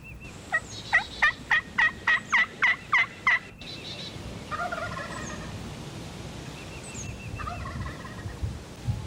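Wild spring turkeys gobble in a rapid burst of about eight loud, rhythmic calls early on, followed by quieter, more distant gobbles and outdoor ambience.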